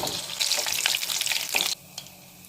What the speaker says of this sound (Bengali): তেল গরম হয়ে গেছে, এবারে কোপ্তাগুলো এক এক করে ভেজে নেব।